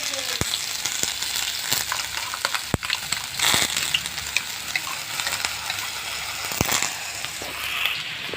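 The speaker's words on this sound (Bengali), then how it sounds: "এবার বেগুনগুলো দিয়ে দেবো।" Eggplant pieces sizzling in a pan for a dish with mustard paste, a steady close frying hiss with a few sharp clicks and knocks from stirring throughout.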